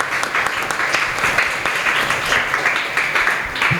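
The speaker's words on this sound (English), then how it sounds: "a round of applause." Sustained applause from an audience at a primary school football awards and closing ceremony, steady and fairly loud throughout with a dense texture of many hands clapping.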